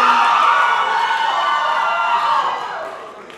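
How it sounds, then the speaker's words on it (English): An audience at an Indian Idol singing competition round cheers, whoops and shouts for a singer, a loud, dense crowd roar that holds steady and then tapers off toward the end. "when the crowd goes crazy like that, when they say your name"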